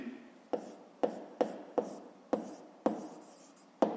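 A pen writes on paper in a school notebook while a fifth-grade math exercise is solved: about eight crisp, evenly spaced strokes and taps, each followed by a short scratch, close and alone.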